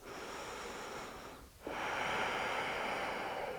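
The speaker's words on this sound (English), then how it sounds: "Deep breaths." Deep breathing during a yoga class: a steady, airy rush of breath that fades briefly, then returns fuller and louder as a long, close inhale or exhale, with no talking.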